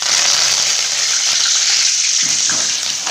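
Curry leaves sizzle in hot oil for a Chettinad-style raw banana fry, giving a steady, loud, close frying hiss that holds without a break and has a few stirring scrapes near the end.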